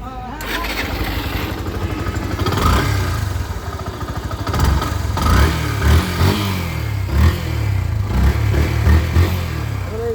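A Yamaha FZS V2 motorcycle engine runs nearby with a steady low putter and some revving swells, mixed with people talking over it.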